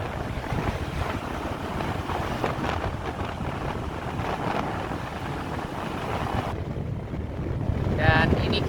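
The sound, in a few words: gentle breeze wind on lake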